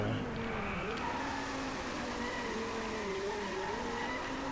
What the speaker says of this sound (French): Voilà, c'est un drift comme ça qu'on veut.